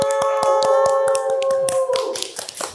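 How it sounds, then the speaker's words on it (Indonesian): A podcast studio audience claps briefly in a sparse patter of separate hand claps, close by, over steady background music. "tepuk tangan."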